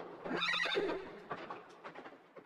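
A horse whinnies and neighs in a children's space-adventure story about a flying Pegasus, one loud drawn-out call early on followed by fainter snorts and trailing sounds.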